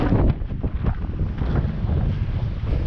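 Steady wind buffets the microphone with a loud, rumbling roar that continues throughout, without letting up.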